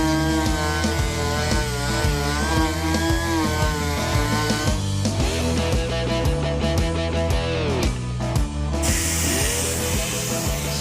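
A power sander whines and buzzes continuously, its motor pitch shifting as it grinds against a car body; no one speaks.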